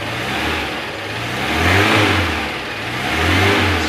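A 1994 Suzuki Carry 1.0 pickup's engine revs up and down in two or three rising bursts from a steady idle, running smoothly and close by, with no talking.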